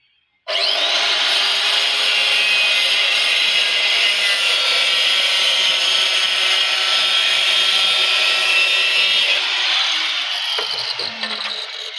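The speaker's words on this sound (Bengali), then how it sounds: "এবার এই টালিটা কীভাবে কাটছি সেটাই দেখো" A ceramic tile is cut at a 45-degree angle, with one continuous loud, close grinding whine that holds steady for about ten seconds and then dies away.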